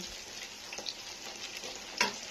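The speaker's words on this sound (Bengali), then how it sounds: "এখানে ভাজছি এটা হচ্ছে চিকেন" Marinated chicken coated in ginger-garlic paste, pepper, cornflour, egg and chilli powder deep frying in hot oil, a steady soft sizzle with a few faint crackles and a sharper pop near the end.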